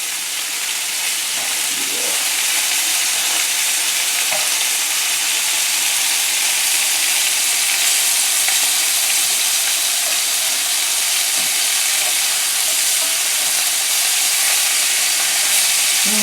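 Pork tenderloin frying in a pan, a loud steady hiss and sizzle that holds evenly throughout with no talk.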